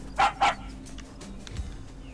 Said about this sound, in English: The dog looks scared and whines.